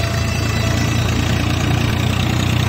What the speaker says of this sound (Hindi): हमें ट्रैक्टर पर जा रहे हैं हम लोग वापस